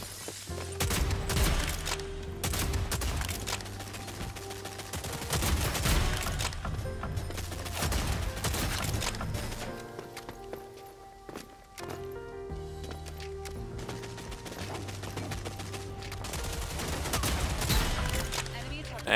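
Cannon weapon firing in the Rogue Company video game: repeated loud gunshot bursts and booms over a steady game soundtrack, with brief pauses between volleys.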